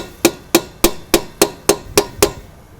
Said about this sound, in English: But for now, we'll just use an old-fashioned hammer.